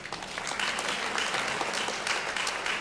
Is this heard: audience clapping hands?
yes